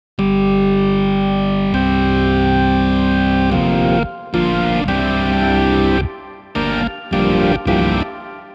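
An IK Multimedia Hammond B-3X virtual tonewheel organ with effects plays loud sustained chords with a chorus-like shimmer and distortion, then a series of choppy stabs separated by abrupt silences.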